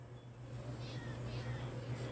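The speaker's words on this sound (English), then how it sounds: "There's a cat." A cat meows in the Minecraft video game, beside a Bedrock iron farm, faint and brief over a steady low hum.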